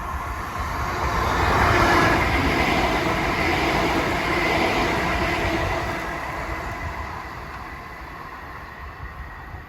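A C2C passenger train runs near Southend Central with continuous rolling rail noise and wheel rumble that swells and then slowly fades, alone without voices.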